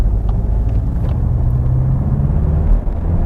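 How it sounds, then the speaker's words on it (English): A Skoda Octavia vRS on the move, its engine and exhaust giving a steady, loud low rumble under way with no talk over it. "We've got a lot more character in the exhaust."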